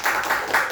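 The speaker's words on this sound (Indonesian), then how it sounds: "Tepuk tangan bagi Pak Ridwan." An audience applauds a teacher with steady clapping in rhythmic waves, fairly loud and close, with no voices over it.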